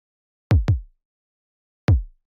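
Drum kick with soft clip distortion and the drive raised slightly: three punchy, booming hits, two in quick succession then one after a pause, each decaying fast into silence.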